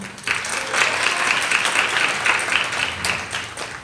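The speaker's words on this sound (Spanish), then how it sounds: "Un aplauso para Tamara." A crowd applauding steadily, many hands clapping together in a dense, continuous wash that holds for several seconds before beginning to taper.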